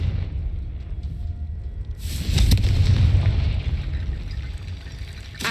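A Confringo blast spell from Hogwarts Legacy goes off partway through, a loud burst with a broad rumbling body that lingers under steady game ambience, with no voice over it.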